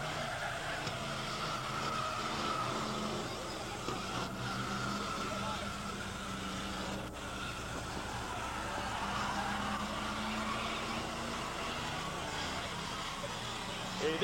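Stock cars race around the Laval autodrome in the 1980s, a constant distant engine drone with passing roars blending into a low, steady rumble across the track.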